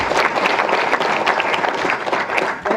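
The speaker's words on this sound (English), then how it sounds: "So let's give him a warm round of applause" An audience at a university awards ceremony claps loudly and continuously, a dense burst of applause with no gaps.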